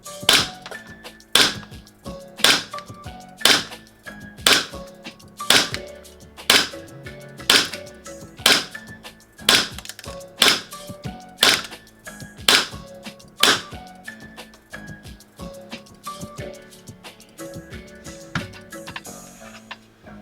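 A Sig Sauer Pro Force M17 gas blowback airsoft pistol, loaded with .20 gram BBs and running on green gas, fires about twenty sharp snapping shots at a steady, unhurried pace, close and loud with no talk.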